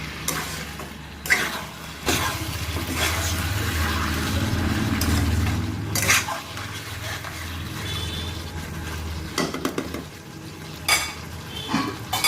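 Marinated mutton stir-fried in a pan, a low sizzle with clattering scrapes and knocks of a spoon against the metal at irregular intervals, close up, without speech.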